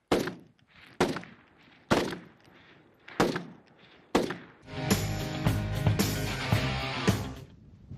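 Five rifle rounds fired at a shooting range ring out about a second apart, each a sharp close crack with a short decay, followed by a dense stretch of sustained loud noise.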